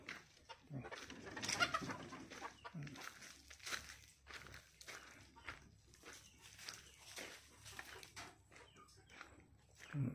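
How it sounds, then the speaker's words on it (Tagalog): Brahma hens clucking and cackling in short, irregular bursts close by, with rustling and some voices mixed in. "laki ng manok, Brahma."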